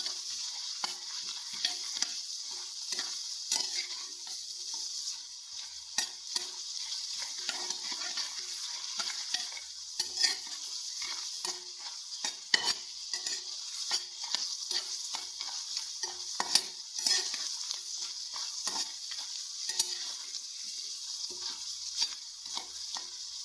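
Curry leaves fry and are stirred in a pan, giving a steady close sizzle with frequent sharp crackles and spatula scrapes throughout, no voices.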